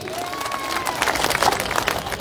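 Crowd applause at a night cricket tournament event in Mohammadpur, a dense burst of clapping swelling midway, with a voice briefly audible at the start.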